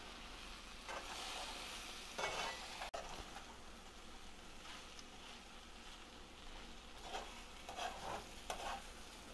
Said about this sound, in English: we're gonna make sure everything get mixed up evenly